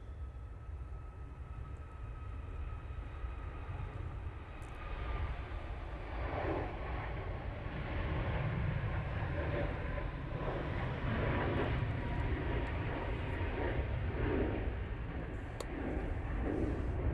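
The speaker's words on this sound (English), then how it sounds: "Ryanair 737 MAX 8 now on the roll." A Ryanair Boeing 737 MAX 8 rolls for takeoff at Manchester Airport, a steady distant engine roar that swells slightly and holds, with no voices.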